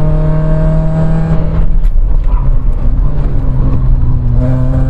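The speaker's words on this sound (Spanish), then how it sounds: "Metemos la dirección y el coche entra sin problema." A rusty Opel Corsa on non-semi-slick tyres takes a curve, its engine droning loud and close with a steady tone that dips then rises again as the car exits the bend.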